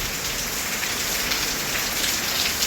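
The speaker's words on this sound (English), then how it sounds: "Rain." Steady rain pours down at a house in Jamaica, a dense, even hiss of drops hitting surfaces close by, with no voices.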